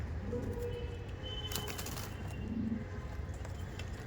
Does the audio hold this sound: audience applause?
no